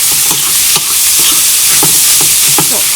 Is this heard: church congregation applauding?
no